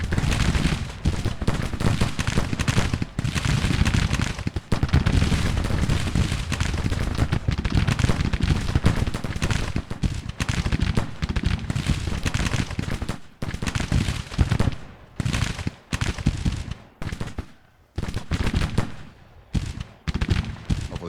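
Civil War infantry fire in the Grand Tactician strategy game, a long stretch of dense, crackling musket volleys and scattered shots, near and loud, thinning into separate bursts toward the end.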